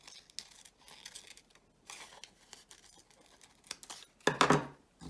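Scissors cut along the bottom of a paper fashion illustration, making several close, crisp snipping and rustling bursts separated by short pauses, with the loudest paper crinkle near the end.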